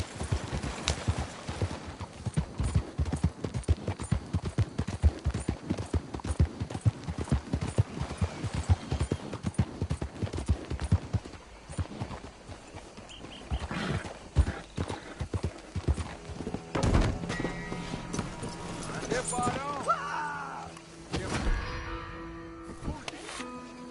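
Rapid hoofbeats of a galloping horse in Red Dead Redemption 2 drum steadily and close for the whole stretch, with a louder mix of game sounds and brief vocal noises building near the end.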